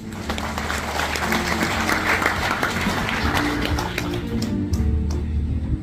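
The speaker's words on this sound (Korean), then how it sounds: "박지원 의원님의 축사를 박수로 청해 듣습니다." Audience applause at a groundbreaking ceremony for a cremation facility in Geochang, a dense steady clapping from a crowd lasting several seconds, fairly loud and close, tapering slightly near the end.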